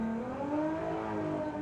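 A Mark 1 Golf VR6 drag car launches with heavy wheel spin at a Bug Jam drag racing event, its engine note rising in a sustained, moderately distant howl with no speech.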